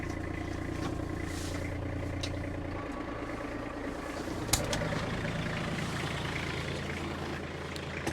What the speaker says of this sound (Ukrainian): є перша швидкість на ґрунтофрезі